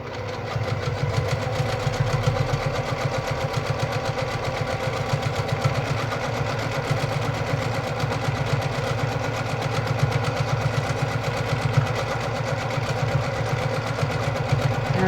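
A Brother PQ1500SL straight-stitch sewing machine runs steadily during free-motion quilting on a standard home setup, a continuous close, loud mechanical hum with rapid needle chatter throughout, with no talking.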